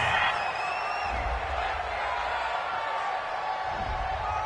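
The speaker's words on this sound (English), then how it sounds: "This home crowd, they're happy with that call." Home crowd at a football game cheers a penalty flag on an incomplete pass, a steady distant roar of stadium noise with scattered whoops.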